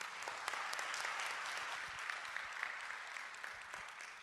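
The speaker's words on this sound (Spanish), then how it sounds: "Brindemos un aplauso," An audience at a talk on international guidelines for adolescent addiction treatment applauds the speaker, a continuous, fairly distant clapping with a few sharper individual claps throughout.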